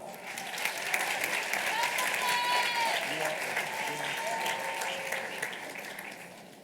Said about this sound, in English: One more round of applause, please, for the William Augustus Hinton family.